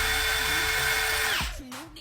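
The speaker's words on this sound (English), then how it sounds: "Put the makeup brush thing in the end of your drill." Power drill spinning a makeup brush fitted in its chuck: a steady, loud motor whine that drops in pitch as the drill winds down, then a short second burst.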